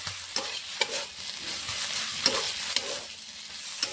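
Potatoes fry and get stirred with wilted radish greens in a pan, soft sizzling under repeated rhythmic scraping strokes of a spatula, close and moderately quiet, with no speech.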